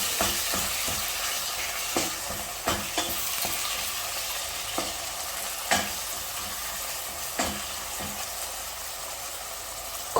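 Minced meat and onions sauté in hot oil for a beef and pork Bolognese, with a steady broadband sizzle broken by sharp scraping stirs at irregular intervals and no talking.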